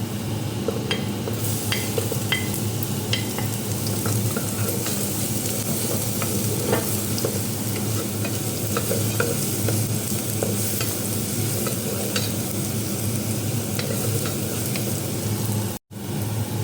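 Garlic sautés in a pan with a constant bright sizzle and frequent scraping and clicking of a utensil stirring, close and steady throughout.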